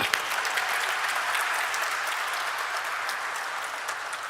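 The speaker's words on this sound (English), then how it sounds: "Round of applause for them." Sustained applause from an audience at a stock exchange listing ceremony for KFintech at NSE, steady and dense throughout with no voices over it.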